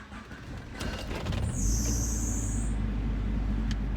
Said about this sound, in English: Belt squealed.